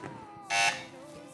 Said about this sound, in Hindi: बजर बजाई है फैजान एकेडमी ने